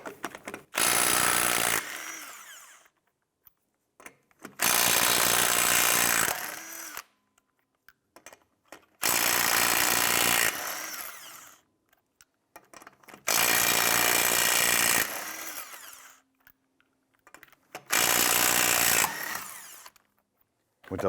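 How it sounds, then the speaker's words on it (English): Bursts from a power tool with a 19mm socket spin lug nuts loose from the rear wheel of a 2005-2007 Ford Five Hundred, five loud whirring runs of about two seconds each, separated by quiet pauses. "Using your 19mm socket, loosen and remove the lug nuts."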